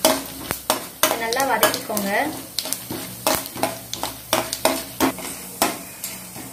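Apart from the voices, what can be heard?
cumin sizzling in hot oil while stirring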